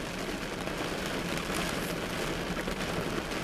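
Steady rain drumming on a car while driving, a dense, even wash of patter heard from inside the vehicle with no voices.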